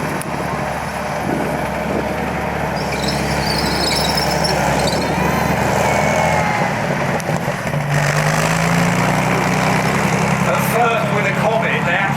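A Comet tank's Meteor engine runs in a steady, loud drone with grinding mechanical squeals, the rumble shifting lower partway through as the vehicle moves close by, with faint voices mixed in.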